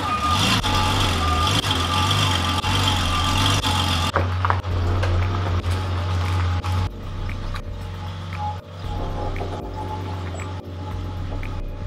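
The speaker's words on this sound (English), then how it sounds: "I'm gonna actually have to reverse my car and move it and then turn it around." A car reverses and maneuvers to turn around, its engine running steadily throughout with reversing beeps sounding near and loud alongside the vehicle noise.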